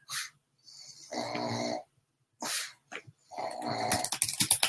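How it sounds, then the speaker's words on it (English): A dog snores close by in slow, rough breaths, each snore a long rasping drone separated by brief pauses. "And if you can hear that little snoring sound"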